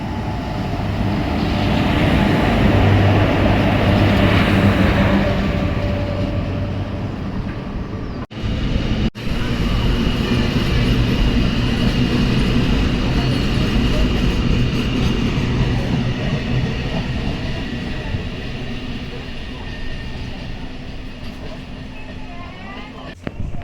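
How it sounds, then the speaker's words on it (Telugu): Onboard the Guntur down intercity train 17228, a loud continuous rumble of the moving carriage with wheel and rail noise, steady throughout with a brief dip partway. "ఆన్బోర్డ్ మనం ట్రైన్ నెంబర్ 17228 గుంటూరు డౌన్ ఇంటర్సిటీలో అయితే ఉన్నాము"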